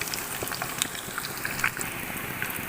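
Fish fingers fry in a pan over a medium flame, giving a steady close sizzle speckled with small crackles and pops throughout, and no talking.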